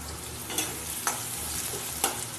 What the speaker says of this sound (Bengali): এবার পেঁয়াজ আলু আর টমেটো একসাথে দিয়ে দিয়েছি আমি, দিয়ে ভালো করে ভাজাটা করে নেব